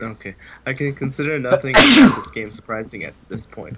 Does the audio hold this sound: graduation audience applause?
no